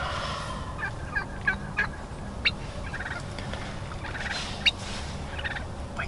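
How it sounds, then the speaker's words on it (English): Wild turkeys gobbling back in the trees during a spring hunt, several faint to moderate gobbles at irregular intervals over a steady outdoor hiss, one call sounding a little louder than the rest. "there's a couple gobbles that came right behind me, so they're back in these trees"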